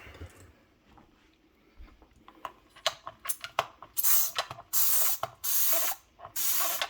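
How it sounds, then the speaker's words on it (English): A foam spray bottle filled with a homemade PowerWash refill fires off several distinct, close hissing bursts, the first few short and clicky, then four longer loud sprays with brief gaps between. "you get a pretty good foam spray"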